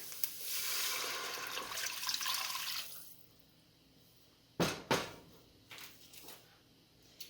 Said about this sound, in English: So I'm going to add 3 cups of water.